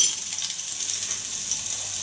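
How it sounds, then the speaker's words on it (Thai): Chili and garlic stir-frying in a hot pan, a steady bright sizzle holding at an even level throughout, with no talking. "ผัดพริกกับกระเทียมให้หอมเลยนะคะสำหรับผัดกะเพรานะคะ"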